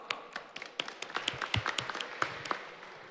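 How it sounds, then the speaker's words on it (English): Sparse, scattered hand claps from a small audience at a startup accelerator panel session, a few seconds of uneven individual claps rather than a full ovation. "Please give some applause."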